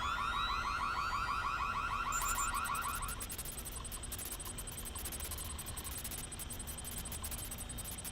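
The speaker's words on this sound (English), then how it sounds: "watch the alarms" A wailing electronic alarm in Splinter Cell Chaos Theory sweeps up and down in rapid repeated cycles, then changes to a higher pulsing ring that repeats steadily over a constant hiss.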